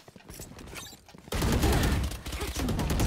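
Gunfire from the tactical shooter Valorant erupts as a loud, dense burst of rapid shots that runs nonstop for about two seconds, after quieter in-game sounds and faint voices.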